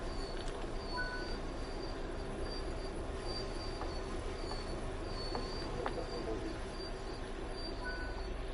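A train rolls steadily along rails in Argentina, a continuous rumble with faint wheel squeal and a steady high whine, moderately distant, with birds faintly audible and no talking.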